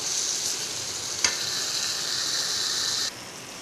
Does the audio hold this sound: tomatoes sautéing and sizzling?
yes